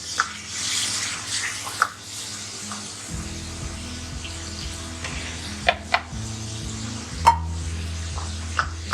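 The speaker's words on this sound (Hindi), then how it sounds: "थोड़ा सा पानी डालना है ताकि टमाटर अच्छी तरह गल जाए" Water poured into a pan of tomatoes while cooking palak gosht, a beef and spinach curry, giving a soft hiss and gurgle over a low hum, with a few brief clinks, no talk.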